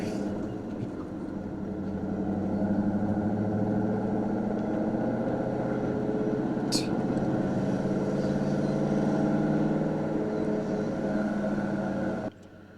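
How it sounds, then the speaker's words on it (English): Steady engine drone from a 1994 Ford Mustang SVT Cobra convertible Indy pace car, running continuously and fairly loud throughout with a low rumbling tone, cutting off abruptly near the end. "Today we are in the 94 Ford Mustang SVT Cobra convertible"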